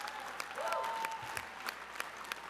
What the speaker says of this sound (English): that is definitely worthy of applause